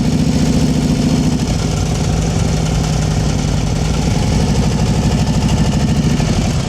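A motorcycle engine idles and putters at low speed during advanced slow-speed riding practice in North Carolina, a loud, continuous, close-up pulsing drone with steady vibration and no talk.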